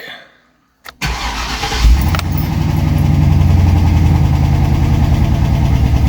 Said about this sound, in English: Key on. I'm gonna give her a crank.